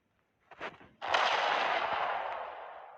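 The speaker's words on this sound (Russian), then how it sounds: "Нифига тут взорвалось" An explosion bursts out suddenly after a couple of small preceding pops, then a loud, broad roar that decays slowly over about two seconds.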